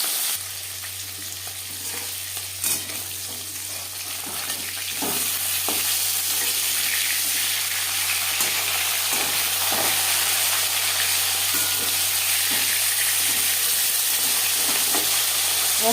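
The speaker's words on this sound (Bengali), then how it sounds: "তেল আমি গরম করে নিয়েছি, দিয়ে দেবো মাছ।" Fish frying in hot refined cooking oil gives a steady, loud, continuous sizzle and crackle that carries throughout, with occasional sharper pops and no talking.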